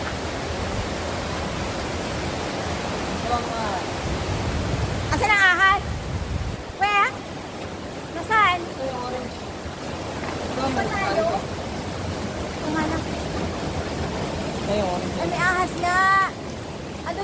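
Ambon Ambon waterfall at an eco park in Pangil, Laguna, pours as a constant broadband rush of falling water, with people talking intermittently over it.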